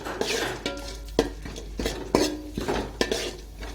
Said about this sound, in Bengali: কাজু বাদামের সঙ্গে কিশমিশটা একটু ভালো করে ভেজে নেব।